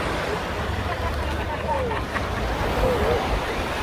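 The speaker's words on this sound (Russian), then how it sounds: "Пляж Вайкики." Ocean waves on Waikiki Beach in Honolulu, Hawaii, roll in as a steady broadband surf wash with wind buffeting the microphone, while faint voices and brief chirps sit in the background.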